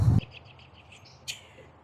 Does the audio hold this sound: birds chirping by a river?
yes